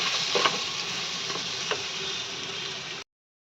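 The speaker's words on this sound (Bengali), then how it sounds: "এখানে মশলাটা খুব ভালো করে কষানো হয়ে গেছে" Spiced masala being stirred and fried in a pan, a steady broadband sizzle with a few scraping stir strokes, close and continuous before cutting off abruptly.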